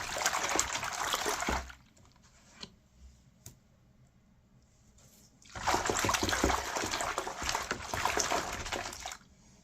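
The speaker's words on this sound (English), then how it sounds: "So the water is nice and warm." Warm water runs and splashes into a tub for bathing a rescued dog with antifungal shampoo, a loud steady stream that stops for a few seconds of near quiet with small drips, then pours again.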